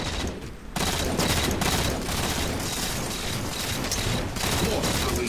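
Assault rifle fire in Halo 4 Team Slayer multiplayer arrives as dense, rapid bursts of gunshots layered over constant game noise, with a brief pause near the start before the firing resumes steadily.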